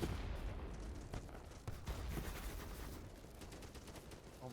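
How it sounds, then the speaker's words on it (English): Bursts of video game gunfire crackle and rattle in overlapping volleys, a dense distant-sounding firefight with rapid shots and no break. "there's just fucking bullets flying"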